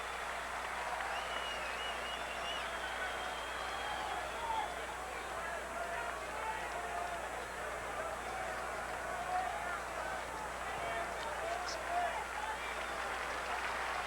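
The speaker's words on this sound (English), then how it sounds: "Fans clapping it up behind Bob Wickman." Baseball fans at a 1998 Mets at Milwaukee game clapping steadily, a soft, even patter of applause from a distant stadium crowd that holds for the whole stretch under a faint murmur.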